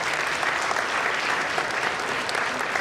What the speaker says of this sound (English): join me in a huge round of applause to welcome our esteemed Chief Guest, Shri Rakeysh Omprakash Mehra